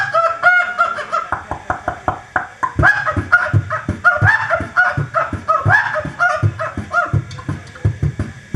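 A voice imitates a hen's clucking call in a run of short, rhythmic, nasal bursts, close and fairly loud, with no other talk.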